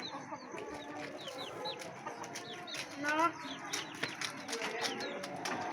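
Chickens cluck and chatter in a noisy coop, several birds calling at once with short bursts, moderately close.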